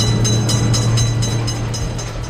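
A loud, close video-game train rolls through a railroad crossing, its heavy low rumble carrying regular clickety-clack beats from the wheels, fading slightly toward the end.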